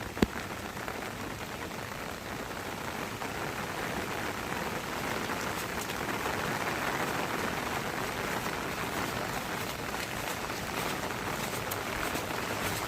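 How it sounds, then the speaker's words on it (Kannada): Heavy rain pours down steadily at a temple, a dense, continuous hiss of drops on surfaces holding an even level throughout with no voices. "ಇನ್ನೇನು ದೇವಸ್ಥಾನದ ಒಳಗೆ ಹೋಗಬೇಕು ಅನ್ನುವಷ್ಟರಲ್ಲಿ ಜೋರಾದ ಮಳೆ ಸ್ಟಾರ್ಟ್ ಆಗೋಯ್ತು"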